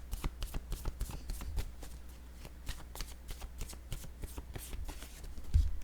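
Oracle cards shuffled by hand in a run of quick, crisp riffling slaps and soft flutters, close up and fairly quiet, ending in a louder tap.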